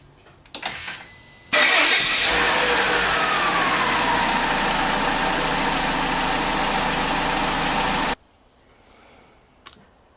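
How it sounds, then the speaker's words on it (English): A 2007 Peugeot car with a 1.6-litre 16-valve engine clicks, cranks briefly and fires up, then idles loud and steady nearby for about six seconds before being switched off, leaving a faint click. "I'm just gonna run the engine and then we'll check the dipstick again"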